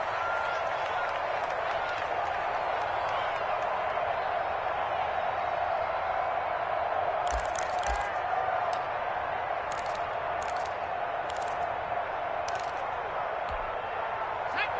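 A steady stadium crowd roar from a football video game on PS4 fills the whole stretch at moderate level, with a few brief sharp claps and thuds breaking through near the end.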